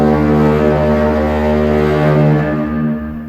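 Old lighthouse foghorn simulation in a museum, a loud sustained low droning blast holding steady for about three seconds, then tapering off near the end, heard alone.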